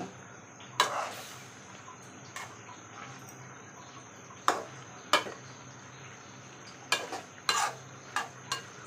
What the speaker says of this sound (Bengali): ভালো করে একটু কষায় নিব।